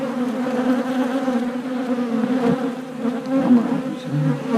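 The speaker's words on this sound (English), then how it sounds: "Some unhappy bees on us" Agitated honey bees swarm around an opened hive, their dense, steady buzzing loud and close throughout, rising and falling slightly as they fly near, with no talking.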